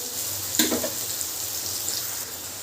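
Malabar spinach stalks fry in a pan with a soft, steady sizzle and a brief stirring clatter near the start, close by and without talk.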